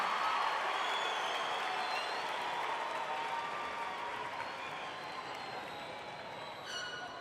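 A graduation ceremony audience applauds its graduates, a broad wash of clapping and crowd noise sustained throughout and easing slightly toward the end, with a few scattered cheers.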